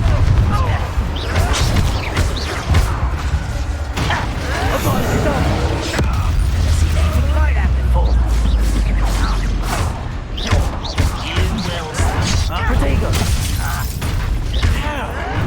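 Hogwarts Legacy combat in which a Confringo blasting spell lands, giving a dense run of booms, thuds and crackling impacts, with shouting voices over the fighting throughout.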